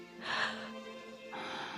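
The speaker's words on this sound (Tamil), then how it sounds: "இவன் மூச்சு விடுறான்" A man breathing, faint and close: one long breath, a quiet pause, then another breath, with no talking.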